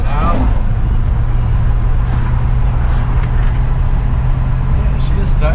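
Steady low engine rumble and road noise from a 1970 Chevelle SS with F41 suspension heard from inside while cornering, loud and constant throughout, with a voice talking over it.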